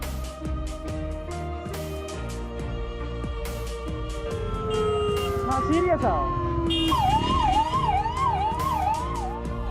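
An ambulance siren wails loudly and close by, sweeping up and down in rising and falling tones, then shifts into a fast warbling yelp, over busy street noise and scattered voices.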